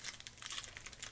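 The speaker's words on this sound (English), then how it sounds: "So let's unwrap the first pack and see how it goes." A Magic: The Gathering War of the Spark booster pack is unwrapped, giving a brief, faint burst of crinkling foil and plastic with small tearing crackles.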